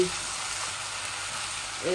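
Chickpeas frying in a pan for an iftar chana snack, giving a steady, fairly loud broadband sizzle that runs the full two seconds, with a brief voice-like tone near the end.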